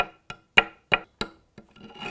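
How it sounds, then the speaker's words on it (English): Close rasping strokes of ochre being ground into a paste against stone, six distinct scrapes in an uneven rhythm followed by a softer continuous rub. "just grind the ochre down into almost a paste"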